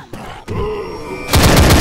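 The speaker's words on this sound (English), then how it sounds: "Full auto shotgun." A full-auto shotgun in the game Left 4 Dead fires a couple of loud, close blasts with ringing tails, then a denser burst of rapid shots closes the clip.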